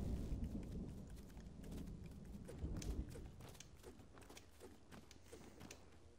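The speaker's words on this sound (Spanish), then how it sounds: "Ojita lluvia." Steady rain falling in the video game LEGO Fortnite, a soft continuous patter with scattered brief splashy ticks throughout, moderately quiet and without talk.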